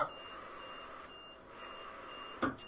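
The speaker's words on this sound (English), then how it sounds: "There's an alarm going off." An alarm beeps in the background of a late-night live stream, a faint, steady electronic tone repeating under quiet room noise, with a brief louder burst near the end.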